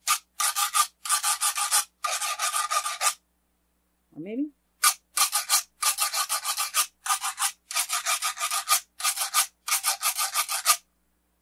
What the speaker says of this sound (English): just a piece of wood that's been carved out in the middle and then has notches in it